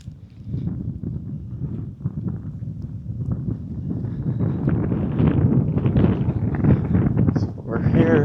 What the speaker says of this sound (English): I apologize if you guys can hear any wind.